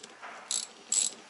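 Two quick ratchet bursts while tightening a brake caliper bolt on a Toyota Corolla AE92, each a short crisp clicking zip, close and fairly quiet in a still workshop.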